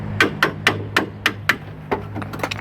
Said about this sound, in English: just be like me and take a hammer